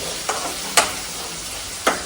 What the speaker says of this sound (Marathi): कांद्याला आपण भाजून घ्यायचं आहे छानपैकी.